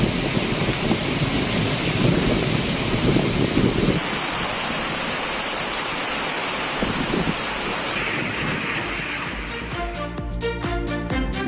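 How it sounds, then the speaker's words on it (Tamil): Heavy rain pours down during a thunderstorm in Tamil Nadu, a dense continuous hiss throughout, with no distinct thunderclap standing out. "இடி மின்னலுடன் கனமழை பெய்தது"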